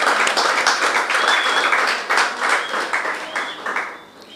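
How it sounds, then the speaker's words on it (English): An audience at a tribute for Marcia gives warm, sustained applause, many hands clapping loudly and continuously before the clapping thins and fades toward the end. "I want us to put our hands together for Marcia"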